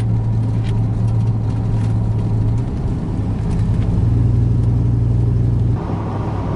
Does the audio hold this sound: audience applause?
no